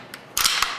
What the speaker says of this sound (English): Cock weapon